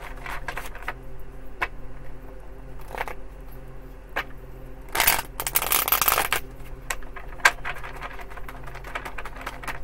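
Tarot cards are riffled and shuffled in short bursts of papery flutter and soft taps, with one longer, louder shuffle midway, close and alone.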